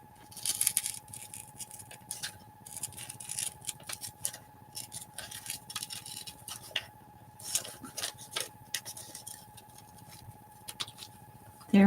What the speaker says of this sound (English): The scissors to cut the rest of it out.